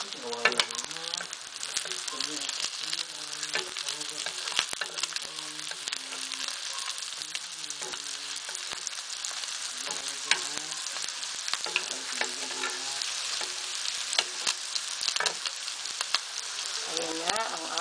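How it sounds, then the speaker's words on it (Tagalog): Lumpia frying in hot oil, giving a steady crackling sizzle with dense popping throughout and occasional scrapes of stirring, heard alone without talk. "piniprito ko na yung lumpia"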